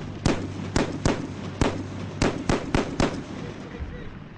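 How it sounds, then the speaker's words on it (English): Rapid semi-automatic shots from an M107 .50 caliber rifle crack out in a loud series of about nine sharp reports at uneven intervals, each with a short echoing tail. "The M107 has another distinct advantage. It is semi-automatic."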